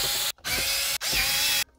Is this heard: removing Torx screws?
yes